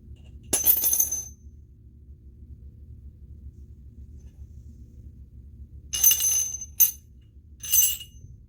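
Coins drop one at a time into a glass held under a table: a single sharp metallic clink near the start, a long quiet gap, then three more quick clinks close together, heard up close with no talking.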